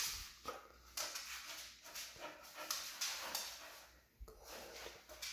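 A roughly one-year-old dog whimpering softly in short, repeated bursts with quiet pauses between them, close by, over a low background.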